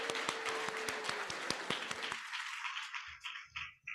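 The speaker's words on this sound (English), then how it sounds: "Let's give a round of applause for our speech language pathology masters and undergraduate" An audience at an education pinning ceremony applauds, a fairly faint, even patter of many hands that fades out after about two seconds, leaving a few scattered claps and quiet room noise.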